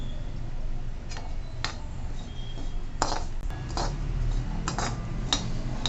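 Scattered metallic scrapes and clinks of a spoon stirring and roasting in a pan with ghee for traditional kanole, spaced irregularly over a steady low background hum.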